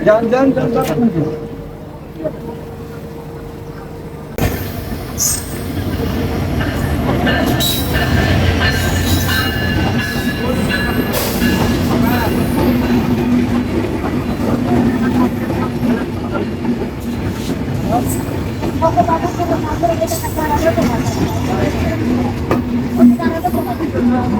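The Chilahati Express train arrives and passes a level crossing, a loud, continuous rumble with clattering wheels and high metallic squeals, heard close by with people talking throughout.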